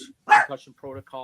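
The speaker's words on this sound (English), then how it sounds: "Sorry, that's my dog." A pet dog gives a couple of short barks close to a microphone, cutting in sharply between bits of a man's speech.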